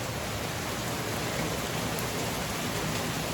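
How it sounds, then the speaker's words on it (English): Heavy rain pours just outside a back porch, a dense, unbroken wash of hiss at an even level from start to finish. "It is just pouring rain"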